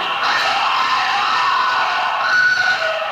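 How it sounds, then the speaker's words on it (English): A shrill, sustained scream, recorded during a paranormal investigation at Shingle Hall, wavers in pitch over a dense background of other voices, fairly loud for about three seconds. "this is the scream, the Shingle Hall scream"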